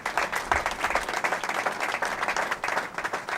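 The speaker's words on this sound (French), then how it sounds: "Je vous demande de pouvoir applaudir pour le camarade." A crowd at a political rally in Kinshasa breaks into steady applause for a comrade, dense clapping from many hands that stays loud and even for a few seconds, with faint voices mixed in.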